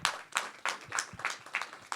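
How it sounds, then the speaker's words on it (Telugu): Audience applause at a Telugu film function honouring artists, attended by the cast of the film Utsavam: a small, steady run of hand claps repeating roughly three times a second, moderately loud and close. "ఇప్పుడు ఈ చప్పట్లు కొడితే వినపడుతుంది"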